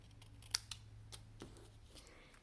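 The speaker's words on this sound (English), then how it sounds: "We're going to take it and just cut it at an angle with our scissors." Scissors snip through cardstock at an angle in a paper-crafting session, a single sharp close cut followed by a few faint quieter clicks over a low steady hum, with no talking.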